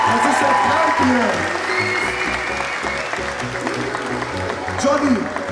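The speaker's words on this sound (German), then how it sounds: "Ey, Mann, fett einen Applaus dafür. Dieser Applaus, bitte." An audience at the Fibo fitness expo applauds amid loud hall noise and crowd murmur, with voices and music carrying through the steady clapping.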